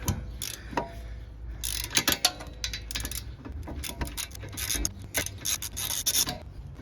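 A wrench works on a rear brake caliper bolt of a 2020 Mitsubishi, giving close, irregular ratcheting clicks and metallic scraping in quick bursts, with no voices.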